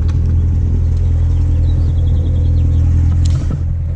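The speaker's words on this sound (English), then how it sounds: "As you can see with track mode, all 4 exhausts are active right now. It's surprisingly quiet and idle compared to my Mustang." A car idles in track mode with all four exhausts open, a deep, steady rumble close by that stays even and fairly subdued for the whole stretch, with a few faint ticks on top and no voices.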